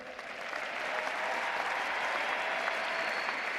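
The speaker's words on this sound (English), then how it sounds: "I would love it if you could salute and give applause to those that put on these ceremonies" Sustained applause from a large audience at a Florida State University spring commencement ceremony, building quickly and holding as a steady wash of clapping with no talk over it.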